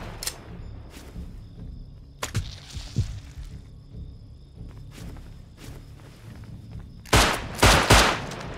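Gunfire in the video game Rust: a few sparse, distant sharp shots early on, then a loud close burst of rapid shots near the end, with faint footsteps between them and no talk.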